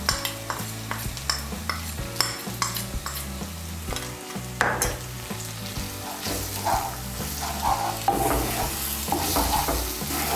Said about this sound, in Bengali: এই পেস্টটা এখন আমি এর মধ্যে দিয়ে দিচ্ছি।